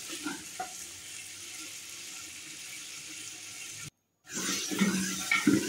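Spice masala sautéing in a pan for mutton cooked over a wood fire, a steady soft sizzle with faint stirring scrapes, briefly cut to silence before returning louder.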